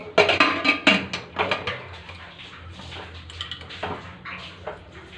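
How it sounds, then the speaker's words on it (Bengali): A metal lid goes onto a cooking pot while a lentil dal or chicken curry is being made. It gives a few sharp clanks and rattles near the start, then quieter scraping and knocking in the kitchen. "তারপর ঢাকনা লাগিয়ে দেব"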